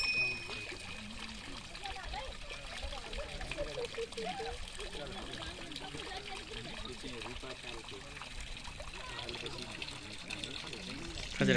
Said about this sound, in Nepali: यो रुखको ठुटाबाट यसरी पानी आफसे आफ झरिरहेको छ।